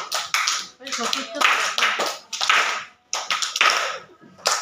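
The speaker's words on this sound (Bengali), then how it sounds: "এবার হাততালি দিয়ে" Hands clap in a steady rhythm during a children's rhyme, with a voice chanting along between and over the claps.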